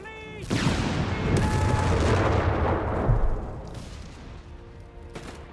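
Dense machine gun and rifle fire crackle through a Company of Heroes 3 battle, loud bursts overlapping with heavier artillery booms, then easing to scattered shots near the end.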